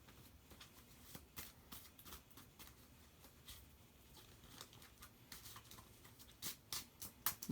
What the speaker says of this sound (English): Shuffling so you know it's random.